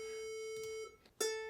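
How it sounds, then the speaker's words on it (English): A ukulele tuner app plays a steady reference beep with bright harmonics. It cuts out briefly near the middle, then resumes at the same pitch, close and clear, with no talking. "You can also here turn it to a beep, if that's easier for you"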